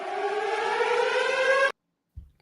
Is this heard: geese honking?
no